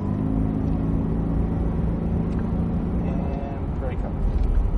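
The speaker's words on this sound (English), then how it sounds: "Accelerating down." A Cadillac CTS-V Coupe accelerates on a race track, its engine a steady, loud, low rumble heard from inside the cabin that holds level throughout, with a person talking over it.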